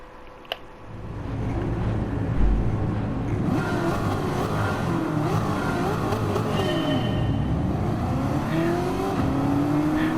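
Heard from on board, a 1971 De Tomaso Pantera launches off the line in a race, its engine roaring loudly and climbing in pitch through several gear changes, with no voices over it.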